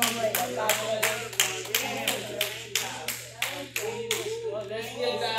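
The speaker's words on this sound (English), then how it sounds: "give God a hand clap" A church congregation claps hands in praise during a Sunday service, a steady rhythmic run of sharp claps filling the room at a brisk pace, with voices faintly underneath.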